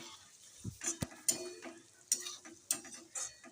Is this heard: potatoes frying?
yes